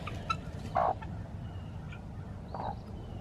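Newly hatched chicks give a couple of faint, brief cheeps in a quiet indoor space, with low background rumble between the calls.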